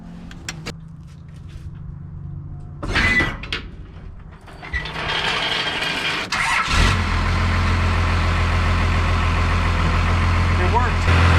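A Cummins diesel in a 1st or 2nd gen pickup cranks, catches and settles into a loud, steady idle after its power steering pump has been bled; clanks and shuffling come before the start.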